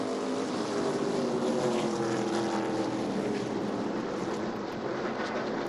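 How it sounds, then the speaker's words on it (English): ARCA Menards Series stock cars racing at Berlin Raceway in Marne, Michigan, in 2023, heard as a steady, fairly distant engine roar that holds without breaks from start to finish. "17 cars on the track. Picking up speed."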